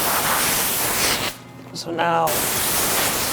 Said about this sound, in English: When I do big pieces, I spray them down here.